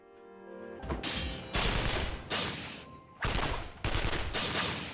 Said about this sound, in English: Is that gunfire I hear?